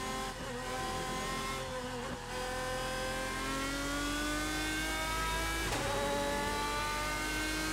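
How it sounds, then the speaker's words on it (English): A GT1 race car engine in the Assetto Corsa sim racing game whines and rises steadily through the gears, with brief drops at shifts, loud and continuous. "I just want to make sure you can still hear the car"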